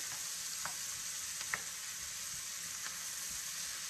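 Vegetables for wraps sizzle steadily as they sauté in a pan, a constant close frying hiss broken by a few faint clicks of stirring.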